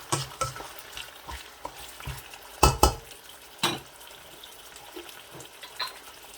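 Meat and ginger garlic paste are stirred in a pot for Balochi biryani, with a soft sizzle, scraping strokes and a few sharp metallic clanks of the spoon against the pan.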